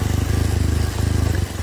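An enduro motorcycle engine chugs steadily at low revs while descending a steep, rain-soaked trail of red mud, a loud close rhythmic thumping with a brief dip near the end.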